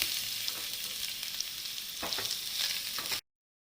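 Grated coconut fries with onion in an oiled pan for a pumpkin curry masala, giving a steady, close crackling sizzle with soft stirring that cuts off abruptly.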